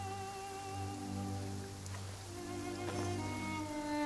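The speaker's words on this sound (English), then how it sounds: "Quite a downpour." Downpour in the video game Genshin Impact, a soft, steady patter of rain falling on surfaces under sustained tonal game music, quiet and continuous without talk.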